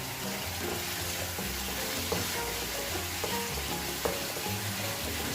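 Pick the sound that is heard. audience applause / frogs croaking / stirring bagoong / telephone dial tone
stirring bagoong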